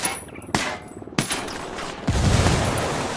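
Gunfire in the military shooter Spec Ops, set in Bolivia: three loud, close shots spaced about half a second apart, then a sustained burst of rapid fire with a heavy, noisy rumble and no talk.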